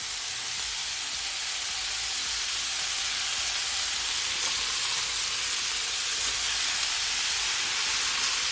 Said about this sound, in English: And now I'm gonna add my cabbage.